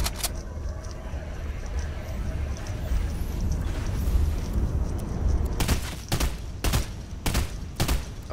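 Gunfire hitting a wall in a video game, a handful of sharp, loud shots spaced out near the end after a stretch of dense rumbling background noise.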